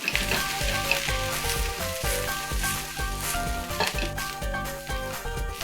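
Brussels sprouts sizzle loudly in hot fat in a pan, a dense steady crackle and hiss with occasional stirring, close and continuous without any talk.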